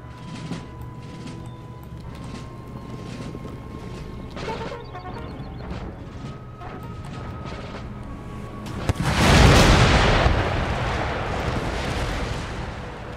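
Howitzers fire in Empire Total War, and one heavy artillery boom erupts near the end with a long, loud rumbling decay, after quieter distant battle noise and a low hum.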